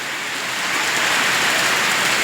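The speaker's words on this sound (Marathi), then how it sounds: "आता पाऊस असा मोठा आलेला आहे" Heavy rain pours down in a steady, dense roar that builds slightly and never lets up, with no voices.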